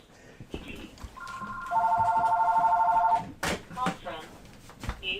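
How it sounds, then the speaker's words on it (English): An incoming call rings on a landline-style phone, a steady electronic warble lasting a couple of seconds at moderate volume, with a voice talking around it in a room. "now I'm going to get a phone call on a phone I don't use"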